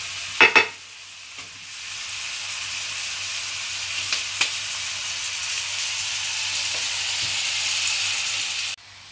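Tomato sauce gently frying in a pan, a steady soft sizzle and hiss running throughout, with a couple of brief stirring knocks near the start.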